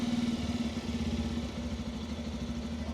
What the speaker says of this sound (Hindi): सो ये है आइडल साउंड।